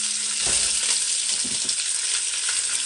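Oxtail pieces browning in a hot oiled pan during a stew cook, a steady bright sizzle and crackle of frying that runs the whole time, with a few low knocks from the pan, and no voices.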